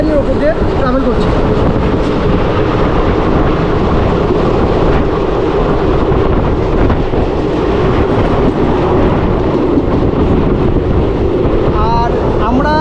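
A passenger train on the single-track Katwa–Ahmedpur railway line gives a loud, continuous rumble with wind buffeting the microphone throughout, and voices faintly mixed in.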